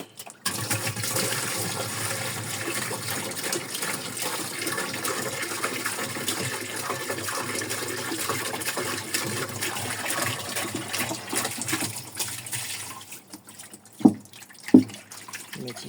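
Water poured from a carafe into a new Thomson dishwasher being checked for leaks, a steady splashing, trickling stream that runs for most of the clip before a couple of brief knocks near the end.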